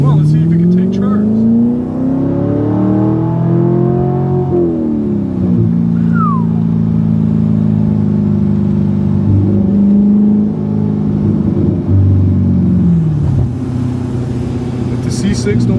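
A Chevrolet Corvette C7 Grand Sport V8 revs up in a deep, loud rumble close by, the pitch rising and dropping through several throttle swells and holding at a growling idle, with people talking over it.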